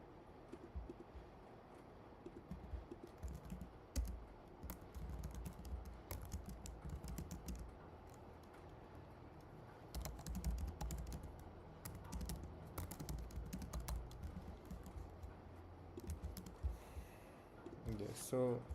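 Laptop keys clatter in quick irregular bursts of typing at close range, with brief pauses and a few heavier taps between runs, while a voice talks quietly in the background.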